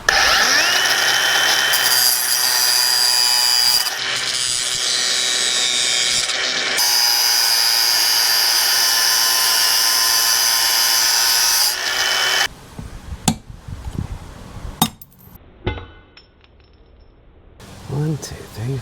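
A power tool grinds loudly and continuously through a length of motorcycle chain from a 100,000 km Honda CB500X, close up for about twelve seconds, then stops, leaving scattered clanks and handling noises.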